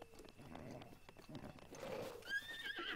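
A horse neighs loudly near the end in Zelda: Breath of the Wild, a rising whinny after clip-clopping hooves and mixed game background noise.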